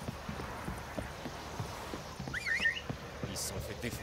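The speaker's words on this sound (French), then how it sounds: "Je crois qu'on va quand même siffler après mon cheval." Horse hooves clip-clopping in a steady walking rhythm in the video game The Witcher 3, fairly faint, with a brief whistle partway through.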